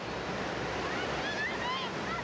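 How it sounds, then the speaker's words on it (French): Ocean waves washing ashore at Muizenberg beach in Cape Town, a family surfing beach with short waves, heard as a broad continuous roar of surf and wind with faint distant cries, no one speaking. "Les vagues sont courtes."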